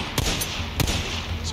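Gunshots in Days Gone, two or three sharp, close reports a fraction of a second apart over steady background noise.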